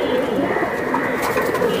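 Giribaz racing pigeons cooing close by, soft throaty coos repeating over a low murmur of background noise.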